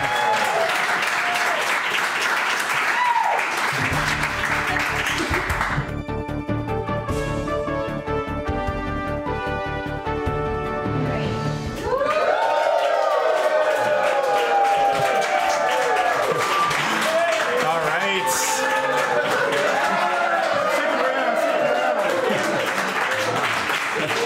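Live audience at a downtown podcast recording breaks into loud, sustained applause and cheering, with a stretch of music partway through and voices talking over it.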